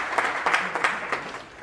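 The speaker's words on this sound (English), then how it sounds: "She needs a better round of applause." Applause at a financial inclusion conference in Lucknow fills a hall as a short, dense round of many hands, with a few louder claps standing out as it fades slightly.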